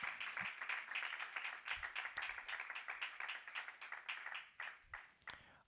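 Rhythmic congregational clapping during a Spanish-language church sermon, steady hand claps in a regular beat, fairly distant and soft, continuing for several seconds without speech.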